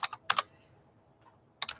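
Computer keyboard typing during a Linux command-line session: two quick bursts of crisp key clicks near the start, a faint tap in the middle, then another short cluster of keystrokes at the end, close and fairly quiet.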